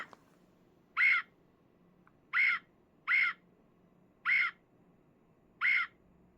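Five short, bright squeaky chirps from a toy bird, spaced unevenly over a few seconds against quiet room hum.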